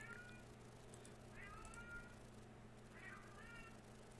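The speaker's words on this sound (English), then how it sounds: "My cat's meowing again." A house cat meows three times, faint and drawn out, spaced a second or so apart over a low steady indoor hum.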